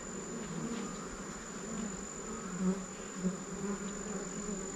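Bees or wasps buzzing steadily around a nest being smoked outdoors, a dense continuous drone close by with a faint high whine above it and no talking.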